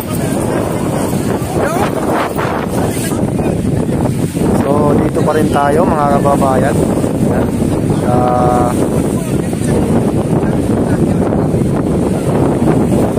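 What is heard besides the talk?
strong wind at Manila Bay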